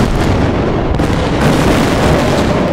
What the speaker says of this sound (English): The planet Mars has exploded.